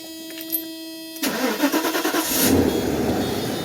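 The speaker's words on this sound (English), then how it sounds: "right now we're going to put on the ignition" A 1993 Mercedes 500 SEL V8 has its ignition switched on, with a faint electronic hum first, then the starter cranks in quick pulses and the engine catches and settles into a loud, close, steady idle.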